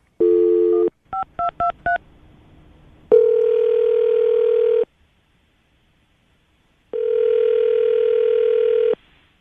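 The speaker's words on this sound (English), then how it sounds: "I'm going to call him right now" A telephone call is placed: a steady dial tone, then a quick run of four DTMF keypad beeps, followed by two long ringback tones separated by silence, close and clear with no talking.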